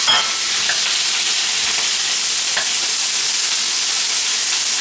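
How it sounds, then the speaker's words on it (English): Rump steak beef pan frying, a loud, steady sizzle with broadband hiss throughout and a couple of brief stirring clicks, no talking. "we're first going to pan fry our beef"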